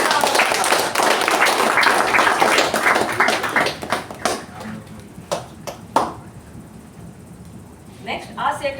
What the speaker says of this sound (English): Let's all give him a huge round of applause.